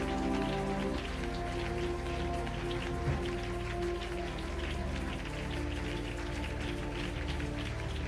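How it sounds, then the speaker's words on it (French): Heavy rain falls in a steady, dense hiss that continues without a break, with sustained musical tones running underneath. "Je veux une forte pluie ici."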